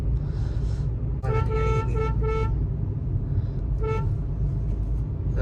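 Car horns honk in heavy road traffic, several short toots and one longer blast over the steady rumble of a car engine, heard from inside a Hyundai Grand i10.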